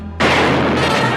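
A single loud, close gunshot in a film's cowboy gunfight duel, a sudden blast that holds as a long, dense roar of reverb with no voices.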